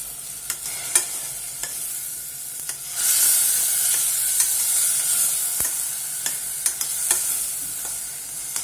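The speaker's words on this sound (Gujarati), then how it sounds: "હવે આની અંદર આપણે મીઠું નાખી દઈશું અને હલાવી લઈશું" Raw banana and mixed chavanu curry being stirred with salt in a pot, a soft scraping stir over a steady sizzle, with a louder burst of hissing midway and occasional sharp clinks of the spoon.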